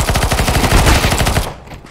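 Rapid automatic gunfire from a CS:GO match rattles loud and close in a quick burst of about a dozen shots, then cuts off.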